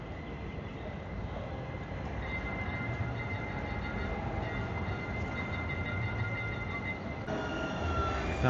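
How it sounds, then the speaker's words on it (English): Tram rolling along street rails in downtown Portland, Oregon, a steady broadband rumble with faint squeal tones that holds for several seconds, close and fairly loud with no talk over it. "Now the tram is in my way"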